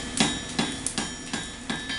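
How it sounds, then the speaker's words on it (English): A hammer strikes Damascus steel being forged, with about six sharp, evenly spaced blows in two seconds. "This is the hammer work now."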